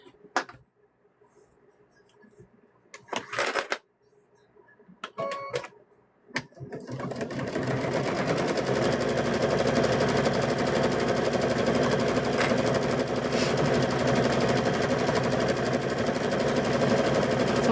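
Sewing machine stitching binding onto a quilt, a few scattered clicks and handling sounds first, then a loud, steady continuous motor whir with rapid needle chatter running unbroken to the end.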